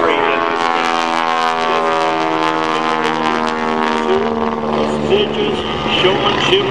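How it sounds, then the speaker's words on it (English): A stock Stearman biplane flying aerobatics at an airshow, its radial engine droning steadily with pitch shifting as it maneuvers, heard continuously while an announcer talks over it. "that flies the stock Stearman in the exciting way that John does"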